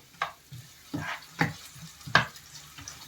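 Chopped onion fries in oil in a pan, a soft steady sizzle broken by four or five sharp scraping stirs at irregular intervals, close and moderately quiet.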